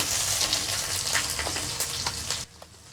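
Dry red chili, mustard seeds and garlic cloves fry in hot oil with a dense, steady crackling sizzle and scattered pops, close and loud, dropping away sharply near the end.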